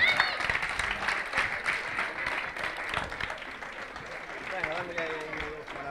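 Sustained applause from an event audience for young robot builders at a robot-building competition, steady and dense throughout, with a presenter's voice heard over it.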